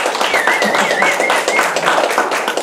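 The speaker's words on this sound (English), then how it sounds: "And I think he deserves a round of applause." A small audience at a church lunch concert gives a round of applause for the event organizer, steady dense clapping throughout, with a voice speaking over it.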